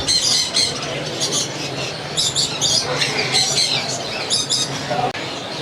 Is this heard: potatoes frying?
no